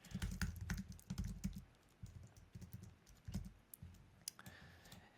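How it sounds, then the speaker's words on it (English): Keys on a computer keyboard clatter in quick bursts of typing with short pauses between, quiet and close with no talk. "Whoops, not on my normal keyboard."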